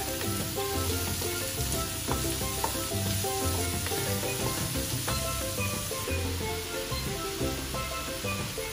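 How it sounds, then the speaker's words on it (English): Fried rice with freshly added carrots sizzles loudly in a hot pan, a steady frying hiss broken by repeated scraping stirs, close and continuous with no talking. "I'm just going to add my carrots. Nicely stir that in."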